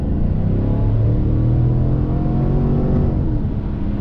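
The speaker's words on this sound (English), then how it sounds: "Great V8 sound" A 2021 Chevrolet Tahoe High Country full-size SUV with a V8 accelerates from a slow roll, its engine giving a loud, steady, deep rumble that climbs gradually in pitch.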